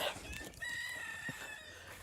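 Chickens on a small farm give a short burst of clucks and crowing-like calls, fairly close, with a steady outdoor background and no speech.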